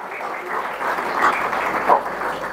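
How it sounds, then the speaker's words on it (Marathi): An audience at a motivational lecture claps for the students, a steady, dense round of applause that holds evenly throughout with a couple of brief louder swells. "पोरांनो, तुमच्यासाठी एकदा टाळ्या वाजवा."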